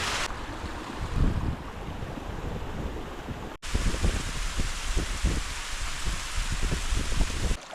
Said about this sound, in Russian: Подошел к этому водопаду поближе, но не сказать, что он полностью замерзший.